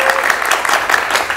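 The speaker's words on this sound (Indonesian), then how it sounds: "Mahasiswa mana tepuk tangannya?" University students in a TV talk-show studio audience give a short burst of brisk, dense applause.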